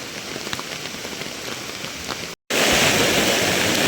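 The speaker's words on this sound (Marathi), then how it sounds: "मंडळी सध्या कोकणात गावाकडे ना 2-3 दिवस खूप जोरात पाऊस पडतोय." Heavy monsoon rain pours down on a village in Konkan, a dense, steady roar of drops on surfaces that briefly cuts out, then returns even louder and fuller.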